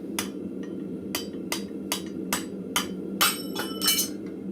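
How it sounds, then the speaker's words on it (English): Hammer blows driving a steel drift to line up a hole for a 5/16 rivet in a blacksmith shop, about nine sharp ringing metallic strikes at an uneven pace over a steady low background hum. "we're just going to drift this out just enough so I can get the 5/16 rivet in"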